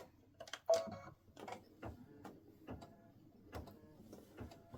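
An embroidery machine stitching an appliqué tack-down on fabric with stiffener for a tic-tac-toe board game piece, giving quiet, irregular mechanical ticks and clacks close by, with soft background hum between them.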